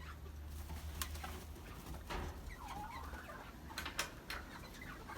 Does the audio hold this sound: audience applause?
no